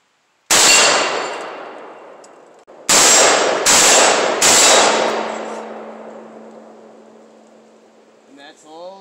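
Gunfire from an AK-47 rifle outdoors: one sharp, loud shot followed after a pause by three rapid shots, each ringing out into a long metallic decay and echo.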